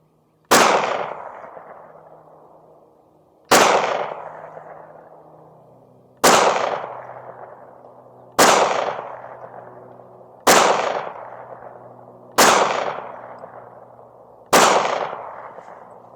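Seven sharp handgun shots firing LAX Ammo 230 grain rounds at an outdoor range, spaced roughly two seconds apart, each a loud crack followed by a long decaying echo.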